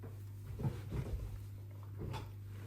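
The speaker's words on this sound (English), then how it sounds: "I need to close the balcony door so that I don't wake up the whole neighborhood." A balcony door slides and bumps shut in a quiet room, a few soft knocks and a scrape at moderate distance over a steady low hum.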